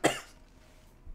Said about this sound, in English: Apologies for my random coughing.